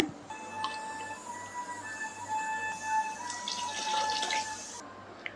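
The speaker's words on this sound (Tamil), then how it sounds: "மிக்ஸி ஜாரை கழுவி தண்ணி சேர்த்து அதில் சேர்த்துக்கோங்க" Water runs and splashes into a mixer jar being rinsed for a country chicken curry, moderately close, for several seconds, with soft tonal music playing in the background.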